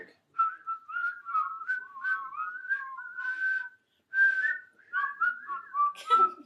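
Whistled tune with a bright, wavering melody, several phrases separated by short pauses; a second whistler seems to join in near the end.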